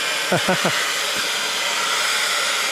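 A hairdryer blasts at full power with a steady broadband hiss filling the whole clip, loud and close, while a brief voice cuts in near the start.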